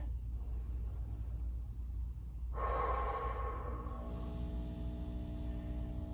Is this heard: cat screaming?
no